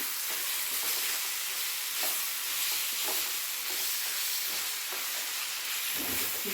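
Continuous sizzling as masala fries in a pan for egg roast, with a few soft scraping stirs and occasional clicks.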